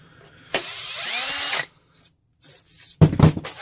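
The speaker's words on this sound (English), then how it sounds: "Oh, I guess you gotta undo the screws." A battery power drill unscrews fasteners from a Nerf blaster: one steady, close whirr of about a second, then short, choppy bursts and rattles after a pause.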